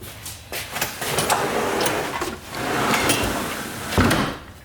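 The lid of a battery box for a poor man's dual battery setup serving a Dometic fridge is pressed shut. Close plastic scraping, sliding and thumping runs in uneven bursts for a few seconds, with no voices.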